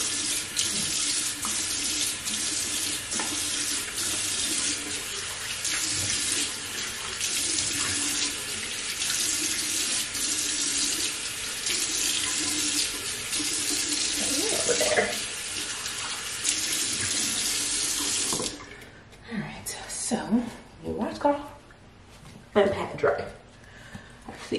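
Faucet running steadily into a sink during a face wash, a loud constant hiss of water that cuts off near the end, followed by faint handling sounds and someone talking briefly.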